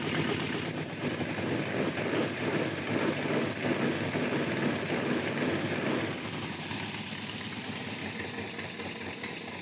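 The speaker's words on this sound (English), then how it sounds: "It's got a small exhaust leak over here." A car engine idles with a small exhaust header leak, making a steady broadband rumble with a faint ticking texture. It stays close and continuous, then softens slightly partway through.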